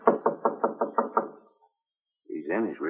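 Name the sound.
knocking on a door again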